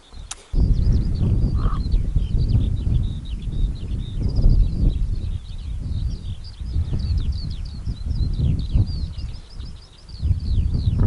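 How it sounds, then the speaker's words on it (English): Skylarks singing on Dartmoor, a continuous high warbling stream of song carrying over strong wind buffeting close by on the open moor. "The birds are still singing. Skylarks, I expect."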